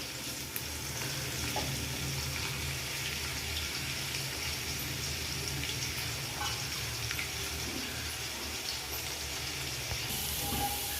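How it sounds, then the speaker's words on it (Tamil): Onions sizzle steadily in a hot pan while cooking chicken biryani, a soft, constant frying hiss with faint stirring, no voices. "வெங்காயத்தை போட்டாச்சு. வெங்காயம் நல்லா வதங்கட்டு ஃபஸ்ட்டு."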